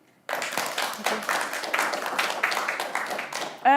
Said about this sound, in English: So that deserves another applause